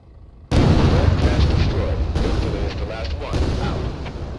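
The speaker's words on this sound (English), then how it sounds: "Just gonna underarm, throw another grenade there" A grenade explosion in the video game Thunder Tier One bursts in loud and close after a brief quiet, then a long rumbling roar and debris rolls on, with smaller secondary bangs following.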